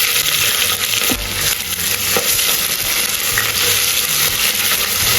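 Onions fry in hot oil with a little kasuri methi and green chilli, giving a steady, loud sizzle with occasional scraping and clinks of a spoon stirring, close up and without talk.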